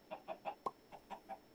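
Chickens clucking in the video game Minecraft, a quick rhythmic run of about seven short clucks with one sharper note in the middle, close and clear, no voices.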